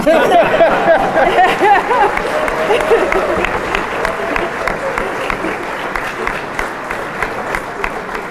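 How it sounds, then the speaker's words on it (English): A crowd claps at a college commencement ceremony, loud and sustained applause that gradually tapers, with cheers and chatter mixed in near the start. "Y'all can keep clapping."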